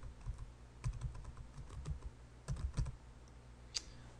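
Someone types a search query on a computer keyboard, producing a quiet, close run of uneven key clicks with brief pauses and a sharper final keystroke.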